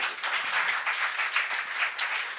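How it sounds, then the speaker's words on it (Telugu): A church congregation claps in praise, a steady run of many hands clapping together in a rough rhythm, moderately loud and unbroken, with no talk over it. "చప్పట్లు కూడా దేవుడు స్తుతిద్దాం"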